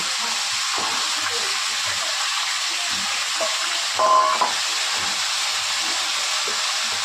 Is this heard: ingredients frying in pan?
yes